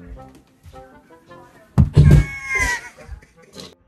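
A person crashing onto a gym floor after a failed handstand, a sudden heavy thud with a scuffling impact, followed by a vocal cry amid quieter voices before and after.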